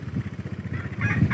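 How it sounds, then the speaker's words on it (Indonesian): A chicken clucks and squawks loudly up close, with a rapid throbbing engine-like rumble underneath from a vehicle on a rough rural road in North Buton, Indonesia, tires slipping. "Ayam juga."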